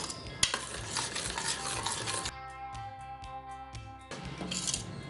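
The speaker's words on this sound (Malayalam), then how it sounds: "ഇത് നന്നായിട്ടൊന്ന് ഇളക്കി കൊടുക്കാം." Millet rice payasam with cardamom powder, ground cumin and a pinch of salt is stirred in a pot, with close scraping strokes, a brief quieter pause in the middle, then more stirring.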